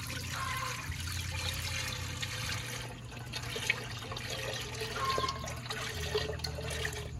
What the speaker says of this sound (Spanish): Le vamos a agregar la leche.